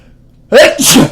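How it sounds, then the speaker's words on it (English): A single loud, close sneeze bursts out after a moment of near silence, with a sharp intake followed by the explosive release, with no talking. "I'm going to be sneezing during this whole thing, probably."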